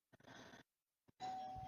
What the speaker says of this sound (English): sorry, my doorbell went